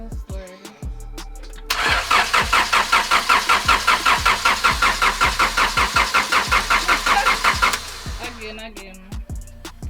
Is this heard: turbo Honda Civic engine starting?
yes